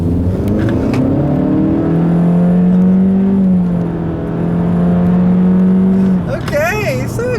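2016 Honda Civic EX-T coupe with a CVT accelerating in sport mode, a loud steady engine drone that climbs and holds at high revs for several seconds before easing off, heard from inside the cabin, with a voice briefly at the end.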